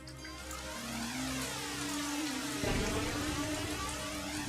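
Rain in an anime episode falls as a steady, even hiss of drops with a low rumble underneath, continuous and moderately quiet with no talking.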